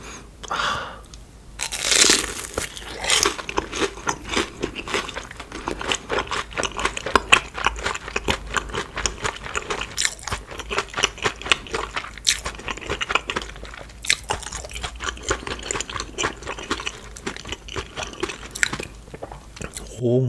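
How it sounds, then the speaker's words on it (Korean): Someone bites and chews a hot dog dipped in cheddar cheese sauce, with loud close-up crunching bites followed by steady wet chewing and crinkling, continuing throughout with no talking. "체다치즈 소스에 찍어 먹어볼게요."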